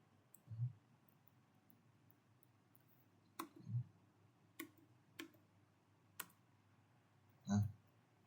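Keyboard typing in a quiet room, a handful of sparse, soft clicks and taps spaced irregularly apart, faint and close, with no talking.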